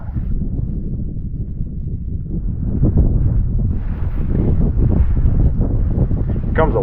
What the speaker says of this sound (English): Here comes a wind.